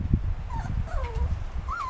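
Schnauzer mother whimpering while playing with her puppy, several close high-pitched whines and yips over soft rustling and low scuffling.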